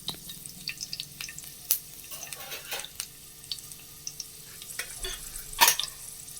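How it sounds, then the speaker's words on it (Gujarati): Garlic sizzles in hot oil as a tempering for okra curry while a spoon clinks and scrapes the pan in quick, irregular taps. "અને હવે આપણે લસણથી એનો વઘાર કરીશું"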